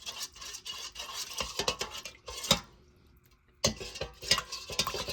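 A metal spoon stirs honey into hot water in a bowl while making basic bread. Close, busy scraping and clinking comes in two bursts with a short quiet gap between them, and nobody speaks.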